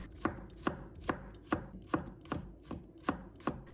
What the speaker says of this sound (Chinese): 再准备1把大蒜，把它切成片，尽量给它切多一点